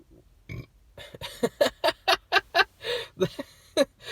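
A long, loud burp rolls out in a series of throaty, croaking pulses, close up and on its own.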